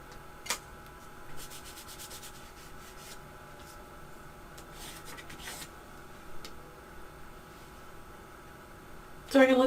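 A brush or cloth rubs paint into an abstract painting, a soft, intermittent scratchy rubbing close up, with a louder knock at the very end.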